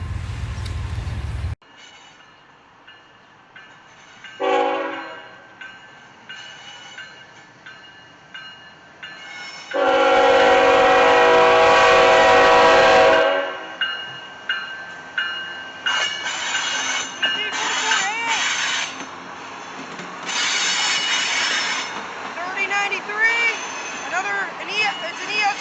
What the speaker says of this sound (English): It's an ES 44AH, loaded coal train, Grafton, West Virginia.